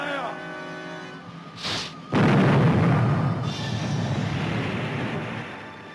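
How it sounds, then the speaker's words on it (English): A ship's cannon in a 1950 pirate film fires one heavy, loud boom that rumbles and decays over several seconds, following a brief shouted order and a short burst of noise. "Shot across their bow. Number one gun, fire! Fire again."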